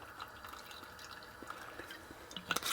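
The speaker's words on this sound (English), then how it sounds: "And then a little splash, just a tiny splash, probably about a teaspoon of apple cider vinegar or any vinegar" A splash of apple cider vinegar is poured into a pan with duck à l'orange sauce, making soft, faint liquid trickles and drips with a couple of sharper drops near the end.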